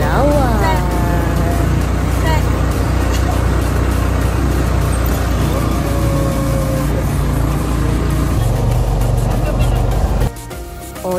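A motorized tricycle rides along in Palawan, its engine drone and road rumble loud and steady throughout, with people talking over the ride.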